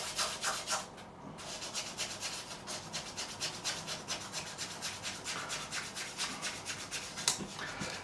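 600 grit abrasive rubbed back and forth over the fret bevels of a Gibson SG Standard during a refret, a rhythmic close scratching hiss with regular strokes, no talking.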